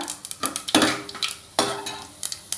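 Cumin seeds sizzling in hot oil as tempering for fenugreek dal, with crackling bursts and a spoon repeatedly scraping and clinking against the pan.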